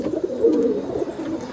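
A pigeon coos close by, a low soft throaty warble repeating in gentle pulses with no talking over it.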